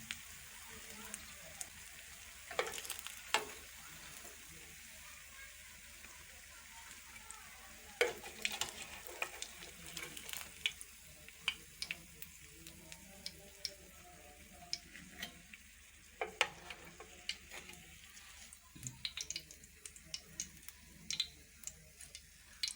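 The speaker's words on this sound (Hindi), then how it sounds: "अब दूसरी साइड को 2 मिनट के लिए अच्छी तरह से पका लेंगे।" Aloo tikki potato patties cook in oil in a pan, giving a quiet, continuous sizzle with scattered ticks, pops and scraping stirs, faint and close.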